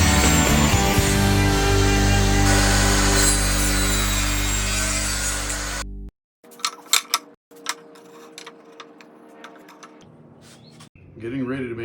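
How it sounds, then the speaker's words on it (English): Wood for a handmade chessboard is power-sanded with a loud, steady, close rasp for about six seconds before it cuts off, followed by sparse knocks, handling sounds and some talk. "And wow, hours and hours of sanding."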